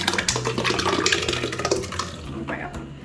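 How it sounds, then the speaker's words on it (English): Marinara sauce pours from an opened can into a pitcher in a liquid, watery stream for about three seconds, close and steady, with the flow thinning near the end. "So this is marinara sauce. So again, pour it into my pitcher."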